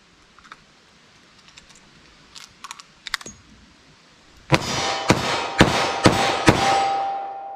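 Revolver being loaded with a speed loader: light metallic clicks and rattles of cartridges, followed by five loud, evenly spaced gunshots close by.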